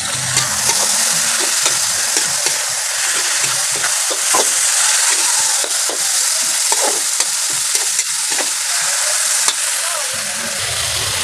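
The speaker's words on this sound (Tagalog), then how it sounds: "lagyan na natin itong pork natin. Yan, lagyan natin dito. Haluin natin." Pork for pakbet fries in a pan while being stirred, a loud, dense sizzle right up close with frequent scraping and tapping of the utensil and no speech.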